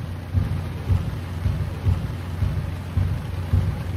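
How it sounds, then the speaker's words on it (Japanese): Steady rain hisses as an even wash of noise, with soft low thumps recurring roughly every half second throughout and no voices. "雨です"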